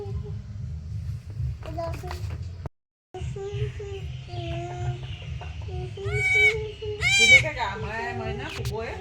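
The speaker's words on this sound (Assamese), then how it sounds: "ছাগলী পোৱালি" A baby goat bleats in a few short, wavering cries near the end, while a child and other people talk throughout during a Magh Bihu celebration.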